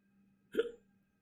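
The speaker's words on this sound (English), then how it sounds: "I got hiccups from my drink." One single hiccup from a man, a short, sharp vocal gulp that is near and clear over a faint steady hum, with silence around it.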